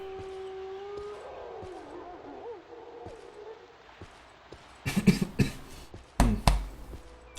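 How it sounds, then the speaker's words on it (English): Wolf calls in the video game Morrowind, a wavering, howl-like tone in the first half, followed by several sharp, loud knocks and thuds. "Game, stop with those wolf sounds."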